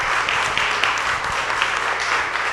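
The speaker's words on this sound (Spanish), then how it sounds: "Gracias, un aplauso fuerte." Audience applause fills a hall at a public talk on parents' and children's legal rights and obligations: dense, steady clapping at moderate loudness for the whole stretch, with no voice over it.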